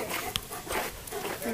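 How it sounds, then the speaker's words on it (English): Dogs wrestle and play, with quick whimpers, panting and scuffling in short irregular bursts while people talk close by. "Dog playing."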